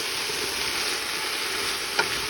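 Onions fry in a pan for French onion soup, a steady loud sizzle filling the whole moment, with a brief scrape of stirring near the end.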